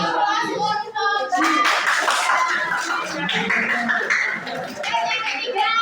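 A classroom gives a burst of applause: many hands clap together in a dense, lively patter over several seconds, mixed with children's voices and chatter.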